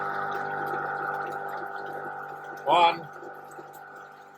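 A scavenge pump on a Marcos Ford engine dyno setup, with water gravity-fed into the dyno, runs in a steady humming drone; someone briefly speaks over it partway through.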